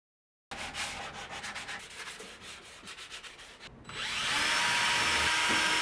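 A wooden French cleat piece being sanded, rhythmic back-and-forth rubbing strokes close by, then a louder, steady whirring of a power sander taking over near the end.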